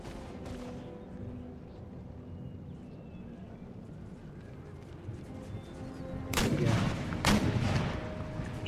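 Artillery fire in the video game Empire Total War: a low rumbling battle bed, then two heavy cannon blasts close together near the end, loud and booming.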